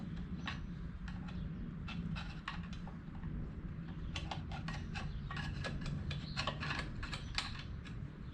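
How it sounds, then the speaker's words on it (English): Exterior cooling fins on the back of a TH400 torque converter in a Nissan Patrol with an RB25DET swap striking metal, a rapid irregular clicking and ticking over a steady low running drone, loud and close throughout. "what you're hearing, they're the fins on the back of that converter, the exterior fins"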